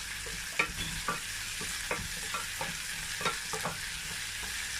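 Beef frying in a pot for pepper soup, a steady sizzle under intermittent knocks and scrapes of stirring, close and moderate in level, with no talking.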